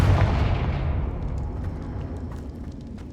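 A Confringo spell explosion in Hogwarts Legacy, a loud deep boom that bursts at once and then rumbles and fades over three seconds, with faint crackling debris in the tail.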